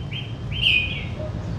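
A songbird from a Vietnamese collector's prized collection gives two bright, close chirping phrases, the second longer and louder, over a low background murmur.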